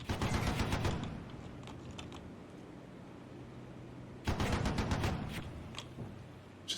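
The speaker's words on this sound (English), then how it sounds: "Firing wildly through the bush there" Gunfire from a tracked vehicle in Armored Brigade 2, rapid bursts of automatic fire at the start, quieter sparse shots in the middle, then another dense volley, heard at moderate distance.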